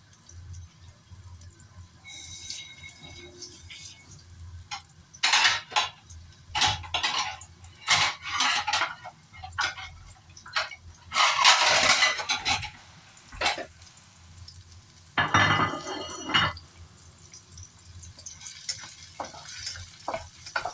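Chopped garlic, chili and ginger are stir-fried in a pan while cooking oysters. Irregular bursts of sizzling, scraping and spatula clatter against the pan come and go, close and moderately loud, with no voices.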